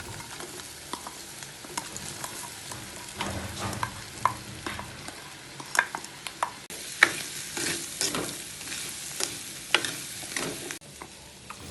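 Jackfruit seeds with chili powder stirred in a frying pan: crisp scraping and tapping of a spoon repeated irregularly over a continuous low sizzle, close by and with no voices.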